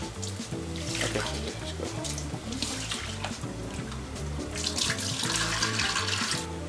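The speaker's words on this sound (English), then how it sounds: "maybe I can go for washing the rice and pulses" Tap water runs steadily into a pot or sink while rice and pulses are rinsed, with close splashing and sloshing throughout and no clear speech.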